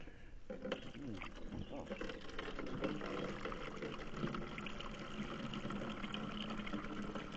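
Fuel drained from a rusty motorcycle petrol tank after an acid cleaning, a steady trickling and splashing pour running continuously at close range, fairly faint.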